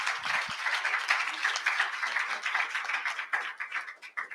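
An audience at a book presentation applauding, a dense burst of many hands clapping at once that holds steady, then thins and fades near the end.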